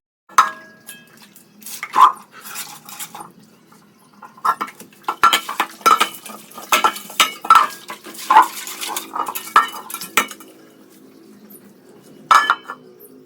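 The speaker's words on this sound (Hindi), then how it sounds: "तो पहले हम ये बर्तन धो के रख देते हैं" Dishes being washed by hand at home, with pots, pans and cutlery clinking and clattering close by in irregular bursts of loud metallic knocks and no talking.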